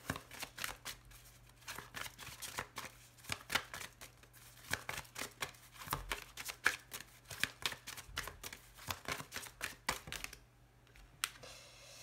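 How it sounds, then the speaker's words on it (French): Tarot cards shuffled and drawn by hand, a dense run of soft riffling clicks and slaps, close and steady, briefly pausing near the end. "Je vais tirer sur ma tablette pour pas avoir encore des cartes qui sautent partout."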